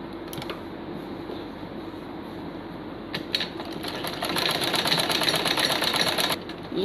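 A sewing machine stitches a homemade fabric mask, at first running softly, then speeding into a loud, rapid, evenly rhythmic chatter of needle strokes before stopping abruptly.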